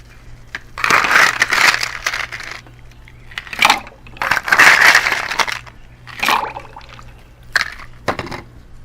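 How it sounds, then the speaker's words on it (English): Ice cubes go into a cocktail shaker while a Bloody Maria is mixed, sounding as several close bursts of clattering, crunching cubes with short pauses between them and no talk. "We're going to add some ice into the shaker."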